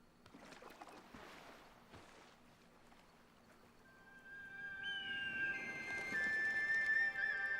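A boat setting off on the Yangtze River in a mystery video game: quiet water sloshing and creaking that swells into a louder churn, with a thin high whistle-like tone near the end.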